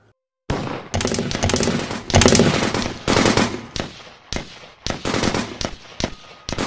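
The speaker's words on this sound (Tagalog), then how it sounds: "nagsimula na ang putok ng mga baril mula sa kasukalan patungo sa amin" Rapid bursts of gunfire in a firefight from thick brush, loud and close, firing in sustained rattling volleys broken by short pauses, with no talk over it.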